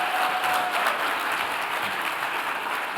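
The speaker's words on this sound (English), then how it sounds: "Let's give them another round of applause, everybody." A seated audience at a master class gives a warm, continuous round of applause, even and moderately loud for three seconds with no talking over it.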